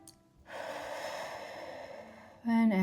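A deep breath during a relaxation cue in a bodyweight climbing workout, one long airy exhale at close range, followed by a voice starting to speak.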